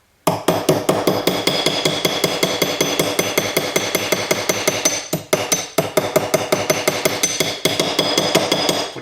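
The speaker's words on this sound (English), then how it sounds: "Put in some hammer marks." A small hammer strikes sterling silver on a hard surface to texture it with hammer marks, a rapid, steady run of sharp metallic taps, close and loud, with brief pauses.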